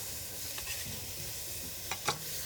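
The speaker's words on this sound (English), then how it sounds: "I'm gonna stir this one more time." Soup vegetables sizzling in a pot while being stirred, with a steady close hiss and a few soft scrapes and clinks of the spoon against the pot.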